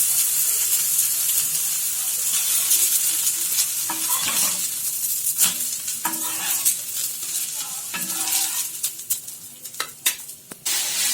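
A soybean and black-eyed pea dosa sizzles loudly in oil on a hot pan, a steady hiss broken near the end by sharper crackles and a few scraping turns of a spatula.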